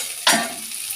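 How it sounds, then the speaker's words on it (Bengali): Pasta with egg and potato scraped and stirred in a frying pan, a sudden loud sizzling burst of food hitting hot oil that settles into a steady hiss, close and without talk. "এবার আমি পাস্তাটা দিয়ে দিলাম, দিয়ে ভালো করে এবার নেড়ে নেব।"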